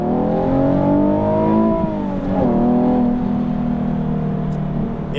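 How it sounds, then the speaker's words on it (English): A Nissan 370Z fitted with a cold air intake pulls hard in second gear, its engine note climbing in a rising rev, dipping at a shift, then settling into a steady loud drone close by. "first and second gear, especially when I floor it, it just revs quicker than I was used to"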